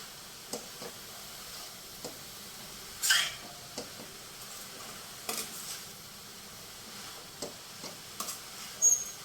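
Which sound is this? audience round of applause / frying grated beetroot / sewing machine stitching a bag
frying grated beetroot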